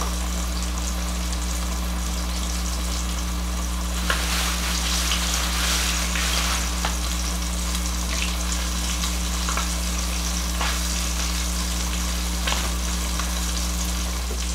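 Cajun-seasoned red snapper fries in shallow oil with a dense, continuous close sizzle and crackle and a few faint pops, a low steady hum underneath, no talking.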